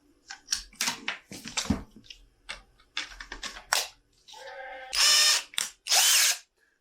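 A cordless drill for camping gear and folding-trailer outriggers gives a series of short trigger bursts, then two longer, loud, high-pitched whirring runs close by.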